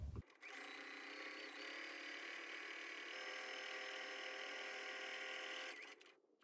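A sewing machine stitches patchwork fabric blocks along a diagonal seam, running in one steady, rapid whir for about five seconds before stopping, with brief handling noises at the start and end.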